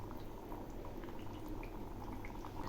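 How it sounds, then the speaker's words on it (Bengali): Katla fish curry gravy with jackfruit seeds bubbles gently in a pan as the fish pieces go in, a soft, close, continuous burble of boiling liquid with small pops and drips. "ঝোল একটু একটু ফুটছে, এবার আমি মাছগুলো ছেড়ে দিচ্ছি"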